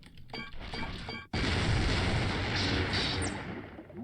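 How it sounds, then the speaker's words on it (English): A grenade explodes in a Star Wars Episode I video game: after a busy stretch of game noise, a sudden loud blast breaks into a sustained roaring rumble that fills the remaining seconds, with no speech. "Look at the size of that explosion."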